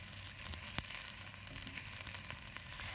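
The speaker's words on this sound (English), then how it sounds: "Got a nice sizzle going there." Steady, faint sizzle of onions frying in hot oil, a continuous crackling hiss with a couple of sharp pops and no voices.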